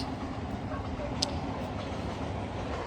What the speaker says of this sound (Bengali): ট্রেন যাচ্ছে বলে রীতিমতন আওয়াজ শোনা যাচ্ছে